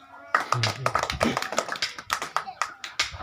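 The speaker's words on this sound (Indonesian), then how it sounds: "untuk itu kita berikan tepuk tangan untuk Mama Ririn." A small audience at a training session in Yogyakarta claps hands in a burst of sharp, close slaps that loosen into an uneven rhythm, with a voice heard briefly at the start.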